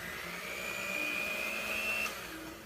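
A steady electric mixer whirs through Oreo pop batter, a sustained motor drone with a rising whine, close and moderately loud, no talking.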